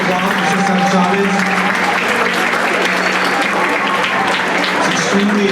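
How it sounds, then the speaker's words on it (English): An assembly audience honoring Cesar Chavez claps in sustained, dense applause that holds steady and loud throughout, with a faint constant hum beneath. "Yes, please, another round of applause for Cesar Chavez."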